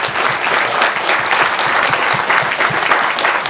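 Audience clapping at a charity book talk show and mini concert, a loud, dense, steady round of applause from a full crowd filling the whole moment.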